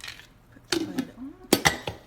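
Lid set onto a black Cuisinart 10 Cup grind-and-brew coffee maker, giving a few close, sharp plastic clacks and a brief scrape within two seconds, with no talk.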